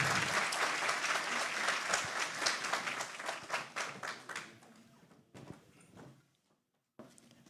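An audience at a Peruvian national glacier inventory presentation bursts into dense applause that gradually thins and fades out, followed by a few scattered sounds and a brief silence.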